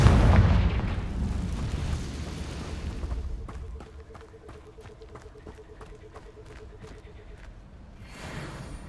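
Confringo fire-spell blast in Hogwarts Legacy: a loud, booming explosion at the start that rolls off into a long fading rumble, followed by a quieter spell-like shimmer and faint rhythmic ticks.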